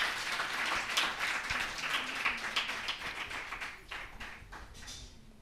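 An audience claps for a children's group performing at an LMA Telugu cultural event in Dallas. The applause is a steady, fairly quiet patter that lasts throughout and tapers slightly near the end.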